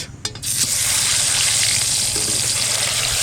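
Pomfret fish rubbed with salt and turmeric sliding into hot oil, setting off a loud, steady sizzle and bubbling frying hiss that continues after a brief clatter at the start.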